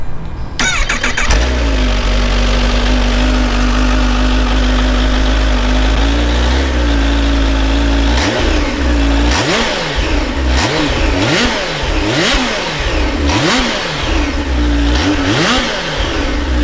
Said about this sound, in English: let's fire up the bike and take a listen to the engine and the sound of the exhaust on the stock setting